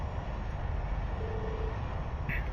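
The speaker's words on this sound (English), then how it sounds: "Sounds to me like an airship." An airship flying overhead in the video game Trails of Cold Steel, a continuous low rumbling rush of air that holds steady and fairly loud throughout, with no speech.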